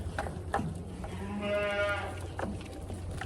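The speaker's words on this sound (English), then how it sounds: "now that the ewes are out and they can have their breakfast" Ewes in a snowy farmyard give a short bleat at close range over faint background noise and scuffling, with soft knocks before and after it.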